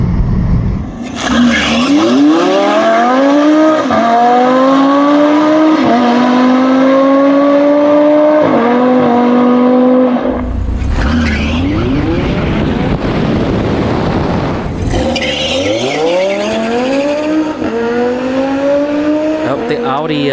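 Tesla Model S Plaid and Audi R8 launching at a drag strip with launch control, tires slipping: loud rising engine and motor whine sweeping upward in repeated runs, with a short broadband burst midway and talk over it.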